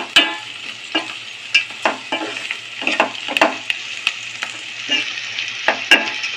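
Sliced onions and green chillies sizzle in a pan for mutton rogan while a spoon stirs them, giving a bright continuous fry broken by regular sharp scrapes and clatters up close.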